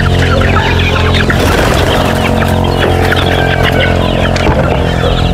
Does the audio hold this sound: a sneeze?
no